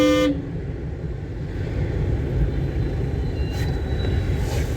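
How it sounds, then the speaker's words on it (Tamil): A car horn honks briefly near the start during a driving lesson, with a short toot over steady road and traffic noise while the car moves along. "ஹார்ன் அடிச்சிருக்கோம்."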